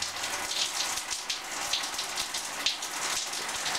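A feeble shower trickles steadily in a home bathroom, giving a soft, even hiss of water with light splattering, quiet and uninterrupted, with no one talking.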